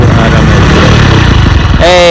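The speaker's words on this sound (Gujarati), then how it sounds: "દેવંગે પાછું બાઇક ચાલુ કરી દીધું છે" A motorcycle engine idles steadily outdoors after being started, giving a low, continuous rumble throughout, with a brief rise in pitch near the end.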